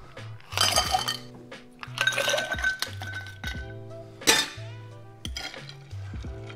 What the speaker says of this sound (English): So fill your mixing glasses with ice.